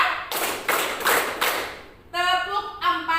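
A group of people clapping a rhythmic pattern together, three loud sharp unison claps close by, followed by a voice speaking.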